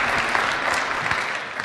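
Audience applause at a 1 Million Cups startup pitch event in Kansas City, a steady dense wash of many hands clapping throughout, loud and continuous with no voices on top.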